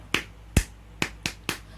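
Five sharp, separate hand claps from children in a classroom, evenly spaced in a quick steady rhythm, crisp and close with quiet gaps between them.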